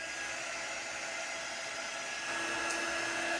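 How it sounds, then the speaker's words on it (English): A heat drying tool blows hot air over crafting ink in a steady, even whoosh with a faint whine, close and continuous, growing slightly louder near the end. "So I do have my heat dry tool here, my quick dry tool."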